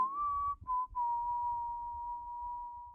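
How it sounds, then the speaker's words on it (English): A close, dry, unprocessed whistle holding one steady pitch with a brief break near the start, with faint low rumbling thuds underneath. "Okay, without the processing, it sounds like this."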